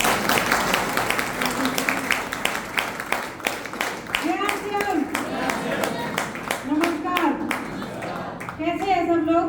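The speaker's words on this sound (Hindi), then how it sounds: "आप चाहें तो ताली बजा सकते।" Audience clapping at a seminar in Chandigarh, a lively burst of many hands clapping throughout, with voices and some cheering or tonal calls mixed in, loud and close.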